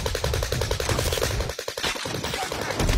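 Rapid automatic gunfire from Call of Duty Warzone rattles off in dense bursts for a few seconds, loud and close, with game effects layered underneath.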